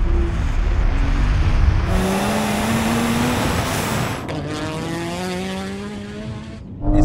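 A Toyota Supra and a Nissan Silvia launch in a drag race with a loud, sustained engine roar, rising and shifting pitch with some tire noise, heard at a distance with no talk.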